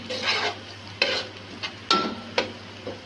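Onions frying in a pan for a Chinese rice dish, a soft sizzle broken by sharp scraping strokes of a spoon against the pan, heard close with no talking.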